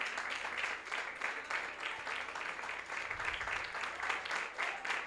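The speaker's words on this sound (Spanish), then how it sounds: "Dale tu aplauso, tu aplauso," Sustained applause from a worshipping congregation rolls in steady rhythmic waves, moderately distant and soft, with a faint voice briefly underneath.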